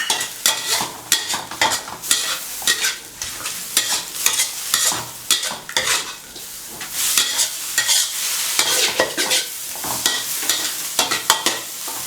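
Bitter melon and eggs are stir-fried in a pan over a modest home stove flame, with dense, continuous spatula scraping and stirring over a steady sizzle, close and fairly loud throughout.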